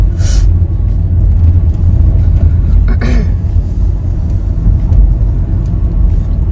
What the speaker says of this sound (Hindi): बहुत ज्यादा ट्रैफिक हो गया